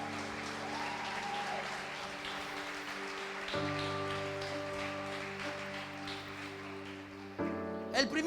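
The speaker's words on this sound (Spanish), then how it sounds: "Dele un fuerte aplauso a Dios" A church congregation applauds steadily during a sermon, a broad wash of clapping under sustained organ or keyboard chords, with the music shifting and swelling near the end.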